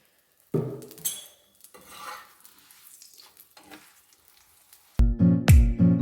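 A paratha stuffed with desi ghee fries in oil on a pan, with scattered clinks and scrapes of utensils, a quiet stretch, then a loud burst of pan clatter and sizzling near the end.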